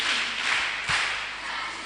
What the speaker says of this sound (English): Now I want you to clap for yourself, okay?